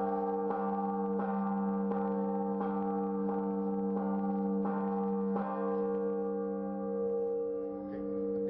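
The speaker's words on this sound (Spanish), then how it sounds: "A esto se le llama un toque de arrebato." A cathedral church bell sounds an emergency alarm toll, struck in quick regular strokes about every 0.7 seconds over a sustained ringing hum. The tone is loud and close, with no voices.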